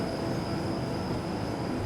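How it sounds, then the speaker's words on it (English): A train in Train Simulator 2017 runs along the Albula Line, probably inside a tunnel, giving a steady, dense rumble with a faint high whine throughout and no talking. "So hopefully you're enjoying this little train ride with me"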